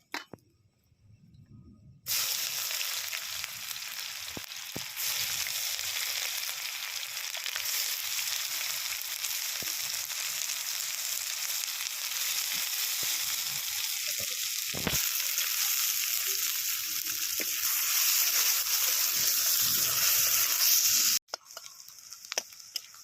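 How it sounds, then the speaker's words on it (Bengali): Bay leaf and onion drop into hot oil, setting off a sudden loud, broad sizzle that holds steady and bright for nearly twenty seconds with occasional stirring clicks, then cuts off abruptly near the end. "এই যে আমার তেল গরম হয়ে গেছে, এর মধ্যে আমি তেজপাতা দিয়ে পেঁয়াজটা দিয়ে দেবো।"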